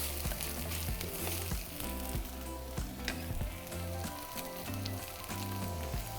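Homemade green chorizo verde sizzles steadily in a pan, a dense continuous crackle with occasional sharper pops, close and fairly quiet throughout with no talking.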